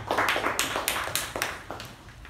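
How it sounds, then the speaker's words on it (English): Small audience at a Toastmasters meeting clapping in a loose, sparse round of separate claps, fairly close, fading toward the end. "Can you have a huge round of applause?"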